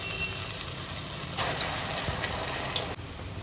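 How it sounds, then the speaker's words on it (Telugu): Ginger vadas (allam garelu) deep-frying in hot oil on a high flame, giving a steady, loud, dense sizzle that continues without pause and drops slightly near the end. "ఈ అల్లం గారెలు కూడా మనకి హై ఫ్లేమ్లోనే వేగాలండి"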